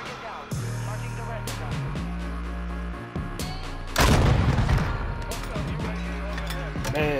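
A loud rocket explosion in a video game erupts midway, a dense broadband blast that decays slowly, set amid steady game music and engine-like hum, with further impacts and debris noises following.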